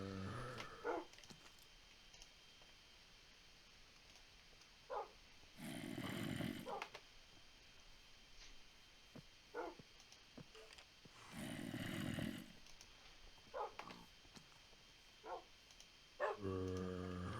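Wolves or dogs in the video game Minecraft give soft, repeated short barks and yips at irregular intervals, with a couple of longer breathy growls. The sounds stay faint and are spread over a quiet game background.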